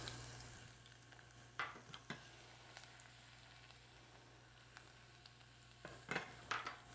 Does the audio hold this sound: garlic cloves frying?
yes